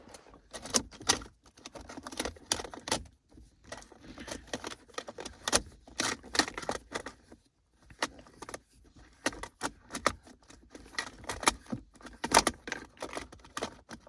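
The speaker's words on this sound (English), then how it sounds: "And now you can just unscrew the knob easily." Rattling and clicking of a gear shift knob being unscrewed by hand in a Mercedes W124, irregular bursts of small metallic and plastic taps up close.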